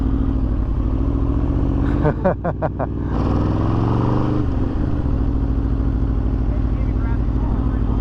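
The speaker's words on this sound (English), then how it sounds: "Alrighty, so we are doing a rear brake test." A Yamaha motorcycle runs during a rear brake test at a riding school, its engine droning steadily and close throughout, with a short burst of rhythmic pulsing and clatter partway through.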